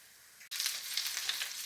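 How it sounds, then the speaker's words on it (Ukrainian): Apple pancakes frying in a pan: a quiet lead-in, then a bright, steady oil sizzle with small crackles, close and alone. "І далі вони в мене смажаться ще півтори хвилинки."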